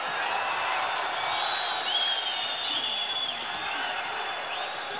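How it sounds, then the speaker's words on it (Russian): Crowd in the arena stands at a professional boxing match keeps up a continuous rumbling murmur, with scattered whoops and whistles rising over the steady din. "И вы слышите гул на трибунах."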